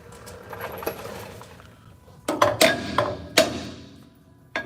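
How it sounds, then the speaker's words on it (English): A few sharp metallic taps of a small hammer on a metal part in a quick cluster, then a single later tap, over a quiet mechanical background with faint earlier clicks. "I'm gonna get a little hammer, tap the bottom one out just a little bit."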